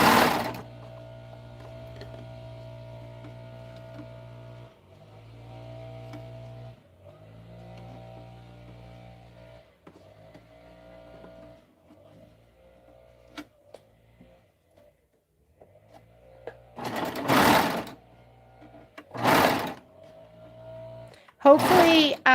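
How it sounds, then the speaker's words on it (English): A sewing machine stitching fabric pieces together, its motor humming steadily in several long runs with brief pauses, then quieter, followed by louder bursts of noise near the end. "Hopefully, the needle will catch too, and it'll sew them together so they'll stay."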